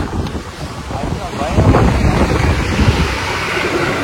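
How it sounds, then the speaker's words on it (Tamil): Strong wind buffets the microphone during a long road trip to Adimaly, Kerala, on a rainy day, a loud continuous roar that swells midway, with a faint voice under it. "செம்மையா காத்தடிக்குது பாருங்க."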